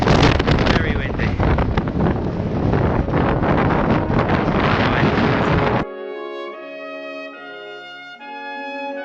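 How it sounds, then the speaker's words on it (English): Strong wind gusts loudly across the microphone on an exposed upland walk past old earthworks, with heavy buffeting for about six seconds before it cuts abruptly to calm music. "Very windy."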